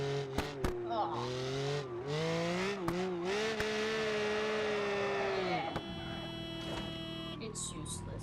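A damaged car in BeamNG.drive peels out, its engine revving hard in long rising sweeps with tire squeal, loud and continuous, with a few sharp clunks along the way.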